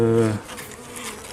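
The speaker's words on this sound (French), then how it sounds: "Et là, on voit les abeilles dans le fond." Honeybees from a weak hive buzzing during an inspection, a close, strong drone at first that drops back into a softer, dense hum of many bees.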